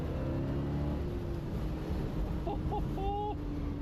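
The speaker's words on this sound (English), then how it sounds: "once this thing gets going, this engine, it's seriously powerful and it sounds really good" A classic car engine runs with a low, steady rumble under heavy wind noise outdoors, with faint tonal whines surfacing near the end.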